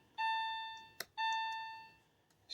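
A 2001 Porsche 996 C4 instrument cluster buzzer sounds two sustained electronic tones close up, each nearly a second long with a short gap and a click between them.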